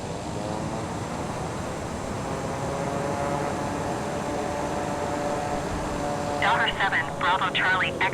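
A TBM930 turboprop rolls out after landing with its thrust reverser engaged, making a steady broad roar inside the cabin, and a voice speaks briefly near the end.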